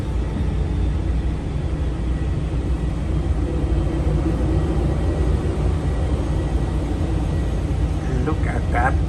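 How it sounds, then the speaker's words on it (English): Airplane departing an airport, a steady loud low rumble of jet engines holding throughout at close range, with brief faint voices near the end. "The airplane is leaving."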